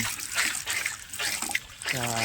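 Water flows down and splashes steadily, a close, noisy trickle and rush running the whole time, with a person starting to talk over it near the end.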